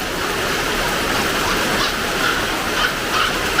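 Steady rain pours down in a dense, unbroken hiss, loud and even throughout with no pauses.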